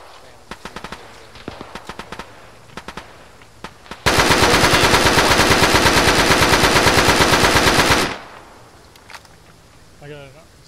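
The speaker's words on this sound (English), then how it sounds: "Just taking some sporadic fire from the southwest" Gunfire in a combat firefight near a tin shed, with scattered single shots at first, then a loud sustained burst of rapid automatic fire lasting several seconds close by, followed by a few more isolated shots.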